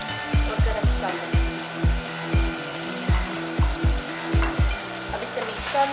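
Chicken frying in a pan with red chilli, crushed chilli, salt and garam masala, a steady sizzle broken by regular rhythmic scraping strokes of a spoon stirring and mixing, close and fairly loud.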